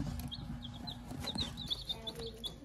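Baby chicks in a small farm brooder give high, thin peeps in quick repeated bursts, clear and close over a low rumbling background, with no speech.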